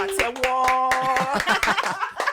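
Several sharp, rhythmic claps ring out over upbeat music during a podcast recording, with voices and chatter mixed in throughout.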